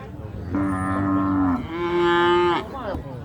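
Cattle at a Thai livestock market give one loud, close moo that rises into a second long, drawn-out bellow, with faint market noise behind.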